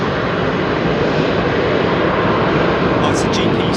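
An Emirates Airbus A380 with GP7000 engines departs Heathrow at night, its engines a loud, steady broadband roar close by, with talk heard over it.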